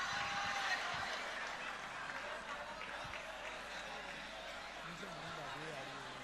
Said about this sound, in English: Please, a round of applause for our council members and the IFA